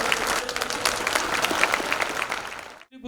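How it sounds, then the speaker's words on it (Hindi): Audience at a satsang at an ashram applauding loudly, a dense, steady wash of many hands clapping that carries on for nearly three seconds and then cuts off abruptly. "जोरदार तालियां देते हैं।"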